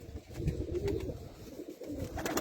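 A pigeon coos, a male Arab-type play pigeon held by its keeper, giving low, throaty rolling calls close by, rising and falling over a soft background.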